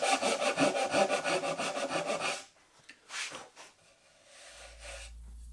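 A Japanese Suizan hand saw cuts wood for a joinery joint in quick, rhythmic rasping push-pull strokes for about two seconds, then stops, followed by a few scattered scrapes and soft handling noises, close and clear.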